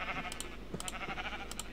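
Sheep bleating in a Minecraft game, several short nasal bleats in quick bursts, moderately close and fairly quiet, with no talk over them.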